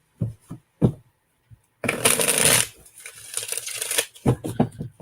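Cards being shuffled up close: a few quick taps, then a riffle burst, followed by more brisk card handling.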